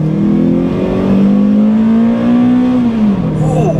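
Toyota Celica GT-S engine revving steadily up to high RPM under acceleration, a rising sustained drone heard from inside the car, with a gear change near the end.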